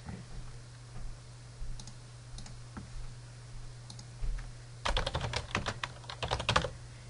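Someone types a short command on a computer keyboard. Scattered soft key taps give way to a quick, clear burst of keystrokes near the end, heard over a low steady hum.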